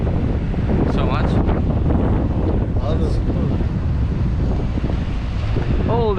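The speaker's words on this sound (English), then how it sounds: "Oh, it's windy, but it's good." Strong wind buffets the microphone at the Grand Place in Brussels, a loud, constant rumbling roar while people talk and exclaim nearby.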